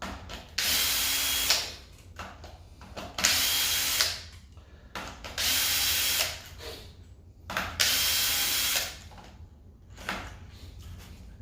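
A power tool runs in repeated bursts of a few seconds each while removing bolts from a Jaguar X-Type engine during timing chain and cylinder head removal, whirring close and loud with brief pauses and ratchety mechanical noise between the bursts.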